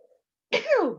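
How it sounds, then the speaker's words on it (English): A single sharp sneeze bursts out after a brief near-silence, loud and close, with a falling vocal tail. "Oh, had to get that sneeze out"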